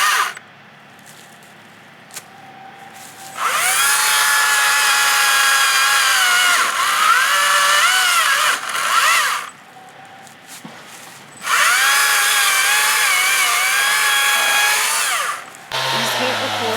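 A small chainsaw cuts into trees outdoors. It roars in two long sustained bursts with revving pitch changes, idling quietly in between, loud and close.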